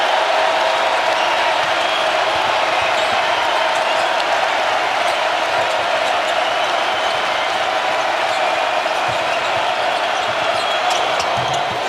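A packed arena crowd roars continuously at a Kentucky vs Missouri college basketball game, a loud, sustained wall of cheering with faint court sounds beneath and a commentator talking over it.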